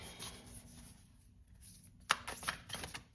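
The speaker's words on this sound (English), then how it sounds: "These cards are kind of big, so sorry if I'm a little awkward shuffling these." Large tarot cards being shuffled by hand, quiet rustling and sliding at first, then a few sharper riffling bursts and slaps toward the end, close and soft, with no talking.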